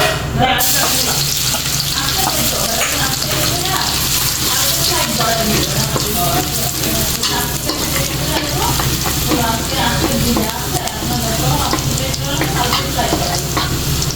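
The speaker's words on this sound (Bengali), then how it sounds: "আমি একই তেলে দিয়ে দিচ্ছি রসুন কুচি" Chopped garlic fries in hot, previously used oil, giving a loud, close, continuous sizzle with occasional stirring scrapes and no talking throughout.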